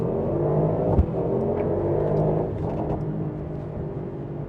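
A 2024 Mercedes-AMG GT accelerating hard, its engine a steady low rumbling drone heard from inside, with a brief thump early on and the pitch holding fairly even throughout.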